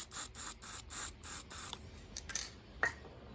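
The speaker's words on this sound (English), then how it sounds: "So spray some paint into the lid." Short bursts of spray paint hiss from an aerosol can being sprayed into a lid to pick up touch-up paint for a Fiat 500, about five quick close puffs followed by a few fainter sputters and small clicks.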